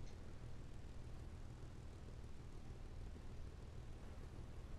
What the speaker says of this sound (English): We have a Ju-88 coming to bomb this runway